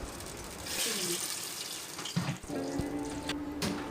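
Tap water gushes into a cooking pot for rice, about three glasses' worth, a steady running splash filling the clip at close range before a brief clatter near the end.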